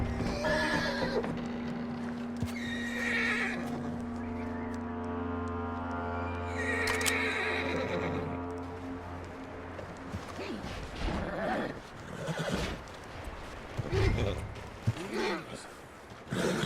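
Horse neighing and whinnying in a Red Dead Redemption 2 game scene, with clip-clopping hooves and sustained low tones as voices talk over parts of it.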